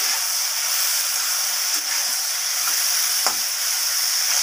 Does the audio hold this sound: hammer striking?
no